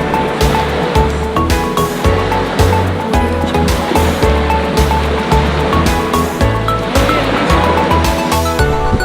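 Ocean waves washing onto a beach at a resort early in the morning, a steady loud roar of surf with rolling swells throughout and no talking.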